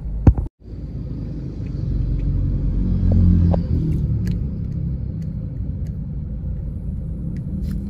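A car's engine rumbles steadily from inside the cabin, swelling slightly as it picks up speed, after a brief thump near the start. No one talks.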